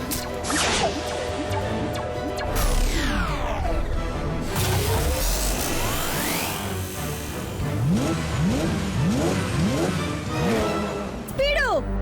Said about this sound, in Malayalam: ഇത് തണ്ടർ ബോൾട്ട് കാറാണ്, മാത്രമല്ല ഇത് മിന്നൽ വേഗത്തിൽ ഓടുന്നതുമാണ്.